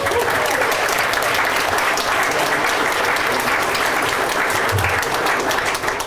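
A crowd at a Boone County nature school dedication ceremony applauds steadily, with dense, loud clapping that continues unbroken through the whole stretch.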